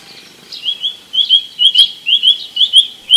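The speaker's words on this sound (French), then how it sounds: "les oiseaux, comme cette grive, se manifestent le plus, par toutes sortes de chants et de cris" A thrush sings alone, close by, from the top of a garden walnut tree in summer, in a string of bright, quick repeated notes with brief pauses between phrases.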